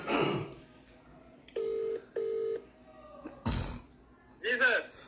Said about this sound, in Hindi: इनको मैं फ़ोन लगा रहा हूँ।